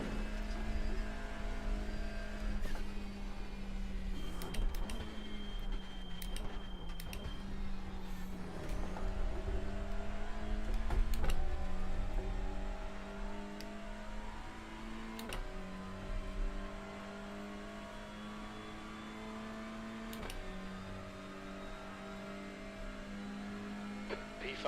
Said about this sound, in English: there goes the BMWs down the straight